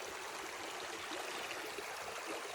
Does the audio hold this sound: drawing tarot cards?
no